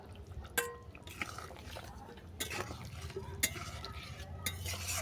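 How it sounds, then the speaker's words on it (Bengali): Fried bitter gourd is stirred in a pan with a utensil, giving soft scraping and clinks over a faint sizzle, with a few sharper knocks against the metal. "আবারও অল্প করে নেড়েছে"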